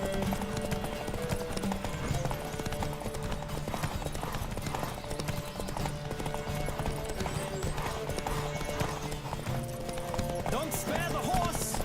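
Hooves gallop in a steady, fast rhythm as a horse is ridden hard in The Witcher 3, with a whinny now and then and game music and voices running underneath.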